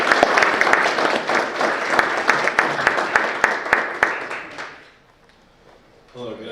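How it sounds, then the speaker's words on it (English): Warm applause from an audience at a press conference, steady dense clapping with a few louder claps standing out, fading out near the end before a voice begins speaking. "Please give him a warm round of applause."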